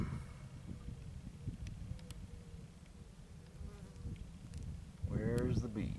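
Bees buzzing faintly around Echinocereus viereckii hedgehog cactus flowers outdoors, a thin, wavering hum over light wind noise, with a brief louder sound near the end.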